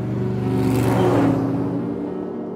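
A Morgan sports car drives past close by, its engine rising to a loud, rumbling peak mid-pass and then fading away, with no voices over it.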